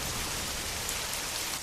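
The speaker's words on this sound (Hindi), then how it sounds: "कड़कड़ाती बिजली के साथ जोरदार बारिश जंगल को हिला रही थी।" Heavy rain pours down steadily in a forest in a cartoon, a dense even hiss of falling drops with no breaks and no voices.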